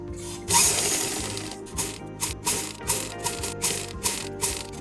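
Sewing machine stitching a cloth mask, close up, with a whirring mechanical run broken into rapid rhythmic pulses of the needle, starting and stopping briefly, and no speech.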